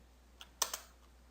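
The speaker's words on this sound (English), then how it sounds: "So I'll type in" A few close keystrokes on a computer keyboard, three quick clicks with the middle one loudest, in an otherwise quiet room.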